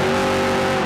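A stock car at the 2008 Pizza Pizza 300 race roars under hard acceleration, a loud, steady high-revving engine tone for just under a second, with no voices.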